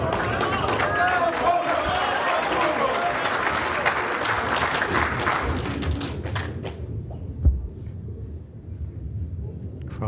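Applause from the crowd fills an indoor bowls championship final, with steady dense clapping for several seconds that thins and tapers to scattered claps and a thud near the end.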